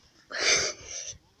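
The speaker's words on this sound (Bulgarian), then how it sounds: "Кихнах." One sharp sneeze lasts about a second and is followed by a softer exhale. It is close and loud against a quiet background during a Minecraft Pocket Edition gaming session.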